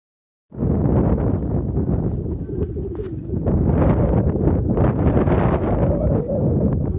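Strong cold wind buffeting the microphone on Parasnath hill at Sammed Shikharji in a loud, continuous roar, with gusts rising and falling throughout.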